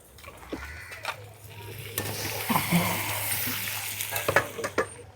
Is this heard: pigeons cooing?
no